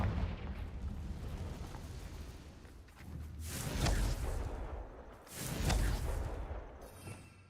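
Confringo blasting spells explode in Hogwarts Legacy, with two heavy booming blasts rising out of a rumbling battle din, each swelling loud and then fading, with no talk.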